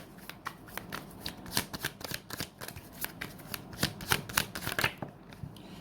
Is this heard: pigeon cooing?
no